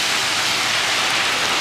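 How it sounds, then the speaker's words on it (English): Steady rain outdoors, a dense, loud, continuous hiss of falling water with no breaks, close and unbroken. "Oh, my boy got caught out there in the rain."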